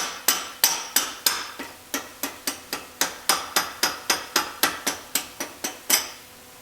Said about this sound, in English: I'm going to use my plastic mallet to help push past the detent because it is spring loaded.